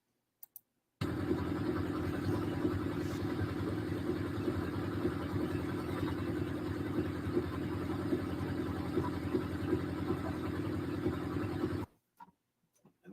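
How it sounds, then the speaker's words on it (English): A small four-cylinder car engine runs at a steady idle for about eleven seconds, a constant mid-pitched drone that starts and stops abruptly, with silence around it. "basically you could hear the engine run. And it does run. It does sound loud-ish."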